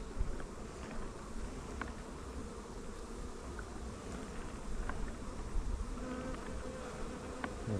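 Honey bees buzz steadily around a hive as honey supers are returned for cleaning, a soft continuous drone with occasional individual bees passing close by.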